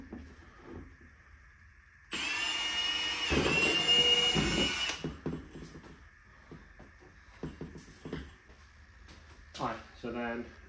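A power drill bores a hole in a Bison Gear tailgate table for a GX470, 4Runner or FJ Cruiser. The loud, whining drill burst starts sharply, runs about three seconds and stops, followed by quieter knocks and handling noise.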